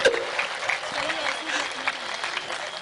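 An audience at a Hindi comedy and satire show claps in a steady patter, with a performer's voice running over the clapping.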